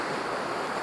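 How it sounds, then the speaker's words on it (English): Ocean waves crash near a reef drop-off in a steady, broad rush of surf and foam that fills the whole moment, with some wind noise on the microphone and no voices. "You can see the waves crashing right there."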